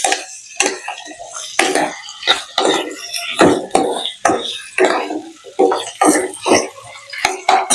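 Baby potatoes fry in a pan over full gas, with repeated scraping and clattering of a utensil stirring against the metal and a light sizzle between strokes.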